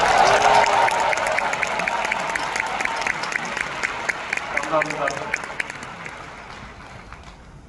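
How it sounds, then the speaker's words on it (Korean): A packed hall of about 13,000 people breaks into loud, dense clapping that gradually thins and fades, with a voice speaking briefly over the tail end. "여러분 박수 좀 보내주세요."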